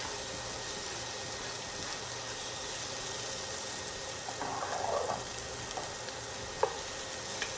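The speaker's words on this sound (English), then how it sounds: "I like the sizzle." Butter sizzles steadily in a pan on medium heat with chopped onion, a soft continuous crackle with a brief stir-like swell and a small clink near the end.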